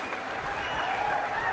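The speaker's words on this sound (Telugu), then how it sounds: "గట్టిగా చప్పట్లు కొట్టి అభినందించండి" An audience applauds at an official review meeting, a brief steady burst of many hands clapping at moderate loudness with no talk over it.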